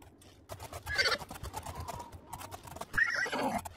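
A horse whinnies in the video game Oblivion, with a couple of close neigh bursts, while computer keys clatter and click steadily underneath.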